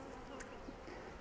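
Honeybees buzz around a Flow Hive hybrid honeycomb frame during an inspection, a faint, steady, close insect hum with no speech.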